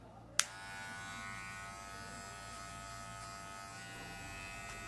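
An electric hair clipper fitted with a guard starts with a sharp click and then buzzes at a steady, close hum while cutting hair for a short military-style men's haircut. No one speaks.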